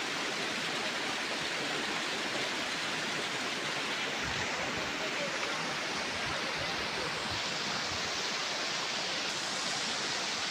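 A waterfall on a jungle trail roars as an even, unbroken broadband rush, steady and moderately distant, with no voices over it.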